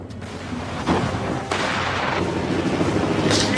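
Artillery and gunfire from large-scale Russian military drills: a steady wash of distant rumbling booms and crackling shots, with sharper bursts around a second in and midway, no voices.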